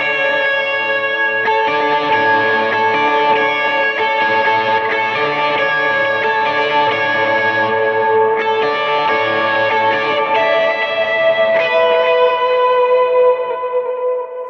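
Electric guitar played through a stereo delay of dotted-eighth and quarter-note repeats plus a big modulated reverb, sustained chords and melody washing together in a dense, shimmering ambient swell, loud and steady throughout with no voices.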